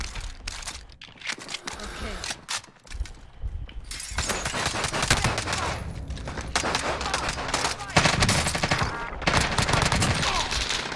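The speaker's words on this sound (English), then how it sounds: "Oh, this guy's got a machine gun." A machine gun rattles in dense, sustained bursts during a Warzone match, with loud close gunfire and crunching impacts, and people talk over it.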